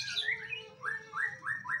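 A young white-rumped shama (murai batu) songbird calls in a series of bright, clear whistled phrases in quick succession, close and fairly loud, with no one talking.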